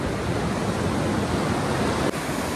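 Sea waves surge onto Palolem beach in Goa after a day of rain, a continuous loud rushing wash of surf with a constant broadband roar and no voices.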